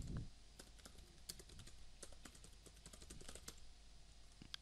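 Quiet typing on a computer keyboard, a steady run of light key clicks over about five seconds, fairly close and alone with no talk.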